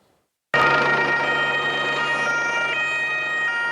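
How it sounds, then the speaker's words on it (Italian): Emergency siren wailing loud and close through the Palermo night during mafia arrests, starting abruptly after a brief silence and holding a steady tonal blare to the end. "Le sirene squarciano il silenzio della notte di Palermo"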